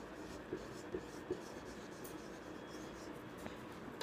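A pen writes out an answer to a Class 9 maths number-systems exercise, making faint, soft scratching strokes with three small taps near the start, all quiet and close with no talking.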